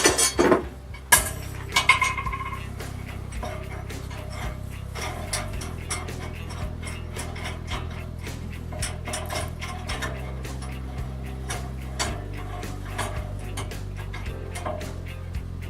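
Workshop clamps are swapped out during a DSLR hot-shoe build: a burst of ratcheting clicks and metallic clinks near the start, then a steady low hum with scattered faint ticks.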